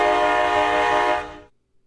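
A custom train horn built in the Run 8 train simulator game sounds its ending: a loud, steady chord held for over a second, then fading quickly to silence.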